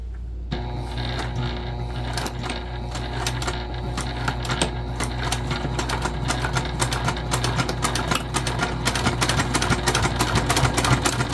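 Juki TL2010Q sewing machine stitching leather with a tank-style walking foot, a steady rapid mechanical chatter of needle strokes running continuously and close for the whole stretch, with no talking.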